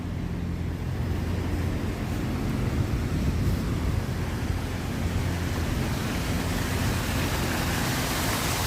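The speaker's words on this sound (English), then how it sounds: "Oh yeah, it's a fountain." Steady, broadband splashing of a water fountain in downtown New York City fills the scene continuously, a loud, even rush of falling water blended with city noise.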